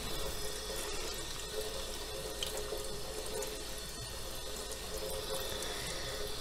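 A ham hock is rinsed under a running kitchen tap, giving a steady, close, unbroken rush of water with no voices and no pauses in the flow.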